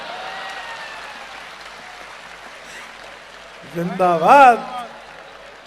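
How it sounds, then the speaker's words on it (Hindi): An audience at a Hindi poetry recital claps in a steady wash of applause, then a voice rises in a short shouted cheer near the end. "अगली पंक्तियों पर अपनी तालियां रोक सको तो रोक कर बताना मुझे।"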